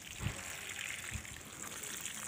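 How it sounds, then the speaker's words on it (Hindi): Water being poured onto mustard seedlings, a faint, steady trickle and splash with a couple of soft low thumps, heard alone without talk. "इस तरह से डाल दिया पानी"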